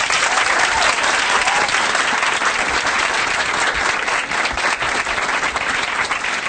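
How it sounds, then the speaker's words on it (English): Audience applause at an event with President Obama at Year Up, a dense, loud, sustained wash of clapping from a large crowd filling the whole stretch. "Give her a big round of applause."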